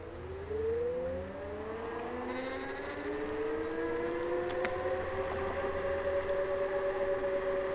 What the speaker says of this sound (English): So let's test the acceleration. This is a 250 watt motor, so it's not gonna be super fast